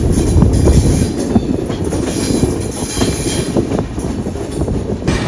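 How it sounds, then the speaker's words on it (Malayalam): Loud, steady rumble of the Grand Trunk Express rounding a wide curve, wheels clattering rhythmically with a faint high squeal running throughout. "നമ്മുടെ വണ്ടി ഇപ്പോൾ വലിയൊരു വളവ് തിരിഞ്ഞുകൊണ്ടിരിക്കുകയാണ്."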